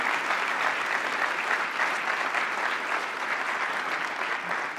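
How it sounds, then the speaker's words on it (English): Sustained applause from a large conference audience for panel participants at an annual meeting, a dense, even wash of clapping that stays loud throughout. "Please give all of our participants here a round of applause."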